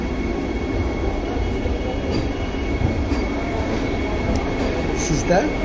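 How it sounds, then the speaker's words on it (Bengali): An Amta local passenger train runs with a continuous rumbling roar and rattling carriages, and a few faint wheel squeals come near the end. "আমি যে ট্রেনটা চালিয়েছি সেই ট্রেনটা হচ্ছে লোকাল ট্রেন দেখুন"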